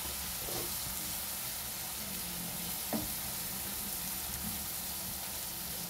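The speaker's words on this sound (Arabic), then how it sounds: "اول ما حطينا الثوم والبهارات ريحه الثوم طلعت البهارات ياخدوا تشويحه كده بس في الزيت" Garlic and spices sizzling in hot oil in a pan for Alexandrian liver with hot peppers, a steady close frying hiss throughout with one brief clatter near the middle, no talking.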